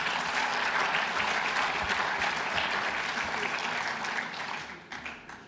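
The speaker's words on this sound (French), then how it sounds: "Oui, on applaudit Georges." A conference audience gives loud, sustained applause that holds steady and then fades away near the end.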